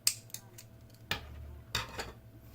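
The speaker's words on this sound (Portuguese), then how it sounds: "aqui vamos cortar este fio" Scissors snip through yarn for a crocheted amigurumi doll, three or four sharp separate cuts spaced a second or so apart, close and fairly loud against a quiet room.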